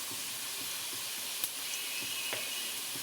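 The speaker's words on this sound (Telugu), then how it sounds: "ఇప్పుడు అది పచ్చివాసన పోయేదాకా ఫ్రై చేద్దాం" Ginger garlic paste fries in a pan with sautéed onions, giving a faint, even hiss that stays low and unbroken over three seconds.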